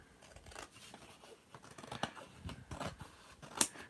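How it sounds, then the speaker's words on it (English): Scissors snip away flaps of paper on a collage journal cover, a series of soft crisp cuts and rustles close by and quiet, with no talking. "I'm going to cut them off"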